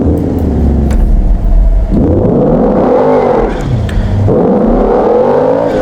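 A BMW in GTA 5 on a snowy off-road course roars as the engine revs, the pitch sweeping up and down in repeated surges, loud and close with no talking.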